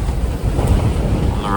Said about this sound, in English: check out the wind gusts